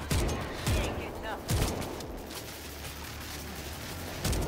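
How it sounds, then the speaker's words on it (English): Gunfire in the zombie shooter World War Z, Horde Mode, as players shoot at gates; bursts of heavy booming shots in a few separated volleys over a dense noisy backdrop, loud and close. "We are just shooting at the gates"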